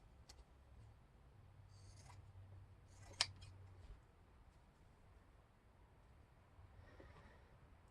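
Scissors snip through a scrap of headboard fabric in a quiet room, a few soft cuts with one sharp close click midway, no talking.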